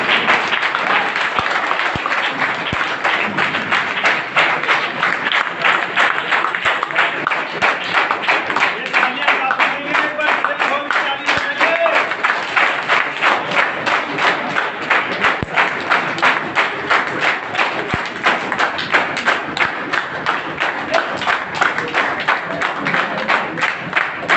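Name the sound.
audience applause and clapping for the family on stage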